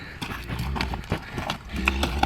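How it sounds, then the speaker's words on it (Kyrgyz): A big horse walks with steady, close hoof clip-clops on hard ground, a repeating rhythm of knocks with faint voices and background noise. "Онтой деген чоң ат экен да."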